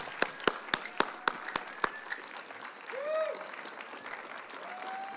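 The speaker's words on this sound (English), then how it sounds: "give a standing round of applause again for our performers, for our PAAAS community" Audience at a Black History Month showcase claps for the performers: about seven sharp, evenly spaced claps ring out in the first two seconds, followed by a thinner patter and a brief whistle-like tone.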